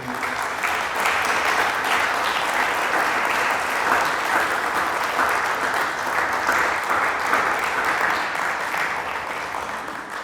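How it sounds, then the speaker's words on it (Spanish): A church congregation claps steadily and loudly for about ten seconds, a dense, even wash of many hands with no break. "Ríndale fuertes palmas al Rey, hermano."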